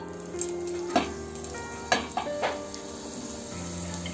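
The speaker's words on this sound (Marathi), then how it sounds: "आता आपण चांगलं हे कांदा लसूण तेलावरती परतून घेऊया" Onion, garlic and curry leaves sizzle in hot oil in a pan. The sizzle holds steady and close, and a few sharp clinks of a utensil against the pan break into it.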